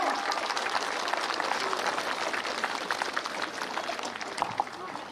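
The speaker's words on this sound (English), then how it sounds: "Please give them a big hand." A crowd applauds at a commando induction ceremony, steady dense clapping at moderate distance lasting several seconds, with faint voices mixed underneath.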